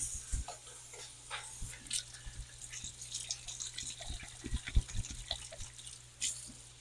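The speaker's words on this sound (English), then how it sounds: "I'm going to wash my hands." Tap water runs and splashes into a kitchen sink while hands are washed during canning prep, a soft, fairly faint trickle with scattered drips and small clunks and no speech.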